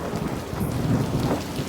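A sudden heavy downpour pours down as a dense, steady roar of rain with no pauses. No one speaks over it.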